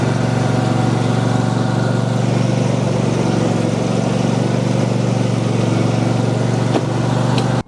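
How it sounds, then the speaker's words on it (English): An Alco ride-on lawn tractor's engine idles steadily and close by, a continuous loud mechanical drone with no pauses or talk. "you can also leave the engine running while you get off the machine"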